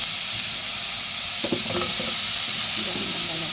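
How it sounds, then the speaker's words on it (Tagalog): Squash pieces added to a hot pan with ginger for ginataang kalabasa, giving a loud, continuous sizzle with bursts of stirring and scraping near the middle, heard up close with no talking. "So lagyan na natin yung kalabasa natin."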